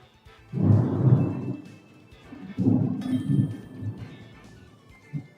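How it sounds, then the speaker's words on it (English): Two rumbling thunder peaks roll through, the first near one second and a second about three seconds later, each swelling and fading at moderate distance, with light rain-like hiss and a faint later thump. "you guys might even hear that lightning. That was a big one"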